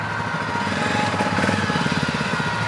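A cheap second-hand motorcycle engine revs hard during a wheelie, a raspy pulsing drone that swells and wavers, close and fairly loud, with no talk over it.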